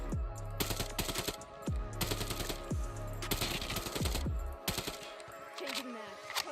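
HBRA3 rifle firing in a first-person shooter video game, several rapid bursts of close, sharp automatic shots separated by short pauses, with low rumbling game audio underneath.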